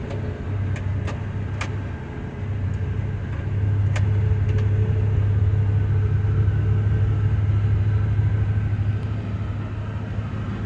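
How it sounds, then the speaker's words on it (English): A 1978 Chevy C10 truck idles steadily just after a cold start, giving a continuous low rumble close by, with a few faint clicks and no voices. "It's been a long time since I started this truck, and I can't believe how quick it started."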